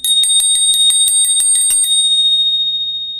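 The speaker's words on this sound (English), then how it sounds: "The sound of the bell. Love it." A small hand bell rung to clear energy, a rapid run of bright, close metallic strikes for about two seconds, then a single tone ringing out and slowly fading.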